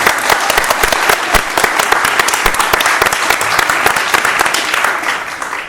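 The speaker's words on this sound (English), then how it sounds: "let's clap for Kate" Loud, steady applause from a theater audience during a talkback session for a stage production of The 39 Steps, with dense clapping throughout and a brief voice faintly underneath.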